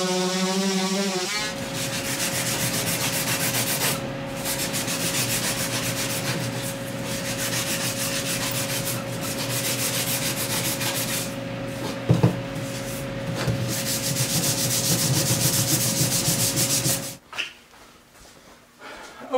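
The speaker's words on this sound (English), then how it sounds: "we're gonna do this with power tools now" A power sander grinds continuously on cured epoxy, loud and close with a steady motor hum and rubbing scrape, then cuts off near the end leaving quieter room sound.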